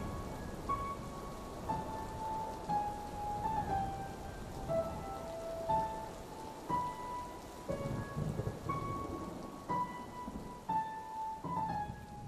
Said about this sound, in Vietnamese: Dưới sấm chớp đùng đoàn và tiếng mưa rít lên như gào thét